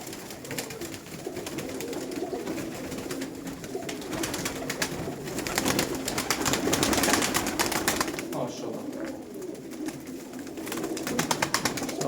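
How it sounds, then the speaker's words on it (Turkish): Mardin tumbler pigeons cooing steadily inside a coop, a soft continuous murmur of many birds at close range with faint background noise and no talk. "Evet abilerim gördüğünüz gibi kuşlarımız burada."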